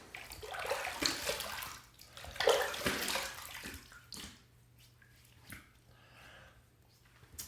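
A Merkur Futur safety razor is rinsed under running water, with splashing, gushing flow in two louder bursts followed by quieter trickling and drips close by.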